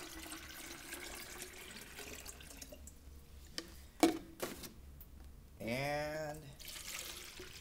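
Water is poured into a quart measuring container, a short rising fill that swells briefly near the end after a few small clinks over faint background noise.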